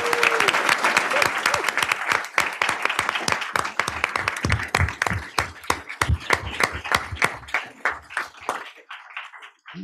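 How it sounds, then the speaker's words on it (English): Applause at a board of education meeting starts as a full round of clapping, then thins to a few separate claps that trail away into quiet, with some murmuring mixed in. "Give them all a round of applause in absentia."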